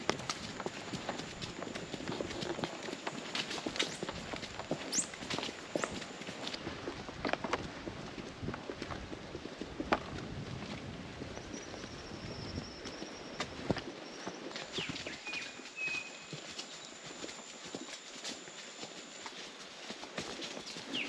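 Hooves of a load-carrying mule on a mountain trail in the Sierra Nevada, clip-clopping in a steady walking rhythm, fairly close, with light rustling and faint outdoor ambience around them.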